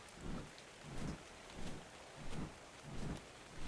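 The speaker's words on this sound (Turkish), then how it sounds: "Yağmurun başlaması kötü oldu." Rain falls steadily in the video game ARK: Survival Evolved, with a low rumble that swells in regular waves about every 0.7 seconds. The sound is moderately loud and continuous, with no speech.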